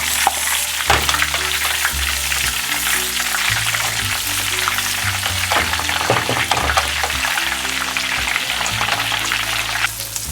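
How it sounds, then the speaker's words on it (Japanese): Onions fry in butter in a pan with a constant, fairly loud crackling sizzle. Stirring and pan noises run through it. "バター入れます。 玉ねぎ炒めます。"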